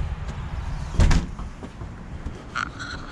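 A door opens into an enclosed ATM booth with one sharp clunk near the start, followed by fainter rattles and a brief metallic squeak against quiet room tone.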